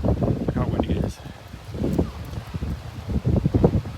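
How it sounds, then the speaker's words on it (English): Strong wind buffets the microphone outdoors beside the Twisting Torso tower in Malmö, a steady low roar with gusts rising and falling under close talking. "Look how windy it is"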